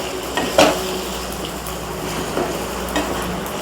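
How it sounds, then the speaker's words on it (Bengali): Spice masala for tuna fish curry frying in oil and stirred in a pan, a constant close sizzle punctuated by scraping spoon strokes and occasional clanks against the metal. "এবার ভালোভাবে মিশিয়ে নেব এবং ভালোভাবে কষাতে কষাতে যাতে তেল ছেড়ে দেয় সেরকমভাবে কষাতে হবে।"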